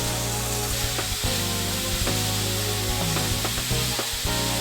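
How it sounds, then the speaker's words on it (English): Thinly sliced pork sizzling hard in a pan over medium-high heat for a spicy Korean stir-fry, a steady loud crackle and hiss with occasional stirring scrapes, no voices. "Starting on a medium-high heat, I'm going to cook some thinly sliced pork."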